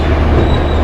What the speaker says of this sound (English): So the train leaves Jharsuguda station.